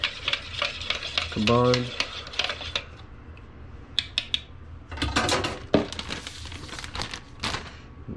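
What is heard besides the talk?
whisking brown sugar and honey marinade in a bowl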